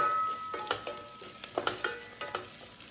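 Sun-dried tomatoes and garlic cooking in a pan, with a quiet steady sizzle broken by a series of soft stirring scrapes and clinks, fairly close and alone without voices.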